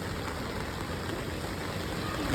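Steady rain falls on a rooftop in the monsoon, a dense, even hiss that holds at constant loudness throughout, with no talking.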